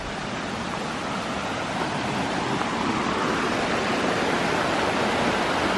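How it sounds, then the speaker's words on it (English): A rushing river stream flows steadily and loudly nearby, a dense broadband wash of water that holds constant for the whole stretch, with no voices over it. "What a river stream."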